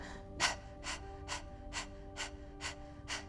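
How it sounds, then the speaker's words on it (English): Quick, rhythmic panting breaths for a Kundalini breathing exercise, about eight sharp huffs in a steady beat, close to the microphone over a low background hum. "You can start like panting like a dog."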